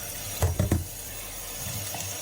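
Tap water runs over tins of saltfish being rinsed in a kitchen sink, with a few short splashy bursts and metallic knocks over a steady watery hiss.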